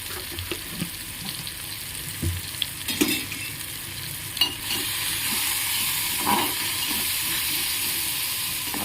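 Cumin seeds and tamarind sizzle and fry steadily in a hot pan while a utensil stirs them, with scraping clicks over a constant hiss that grows louder partway through; no talking.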